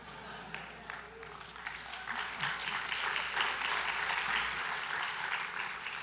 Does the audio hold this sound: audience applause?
yes